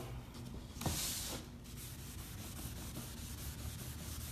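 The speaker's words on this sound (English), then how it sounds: "I'm going to work and I'm going to scrub through" Sponge scrubbing kitchen cabinets, a continuous close rubbing and scouring with one louder swipe early on, steady rhythmic strokes throughout, no talk.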